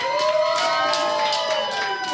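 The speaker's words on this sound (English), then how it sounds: "Ladies and gentlemen, a round of applause for Dre Jacobs." A wrestling crowd at a Christmas Eve show cheers and claps after a match, a steady roar of voices with shouts rising above it and a tonal hum running through.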